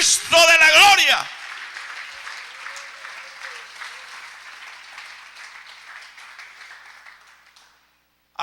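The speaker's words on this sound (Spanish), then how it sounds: "Dale fuerte esas palmas al Cristo de la gloria" A church congregation claps steadily for several seconds after a brief burst of sung voices, the applause thinning gradually before a moment of silence near the end.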